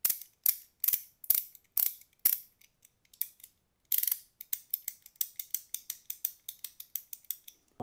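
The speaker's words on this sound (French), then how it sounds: "une petite roue, actionnable dans un seul sens et un cliquet juste à côté" A one-way ratchet wheel and pawl on a 3D-printed PLA kit, turned by hand, giving bursts of crisp, close clicks in quick series, then a longer stretch of rapid, evenly spaced clicking.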